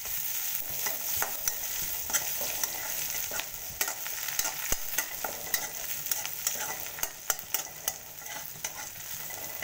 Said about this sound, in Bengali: পেঁয়াজ কাঁচামরিচ একটু ভেজে নিব। তো আমি একটু থেতলানো রসুন দিয়ে দিচ্ছি।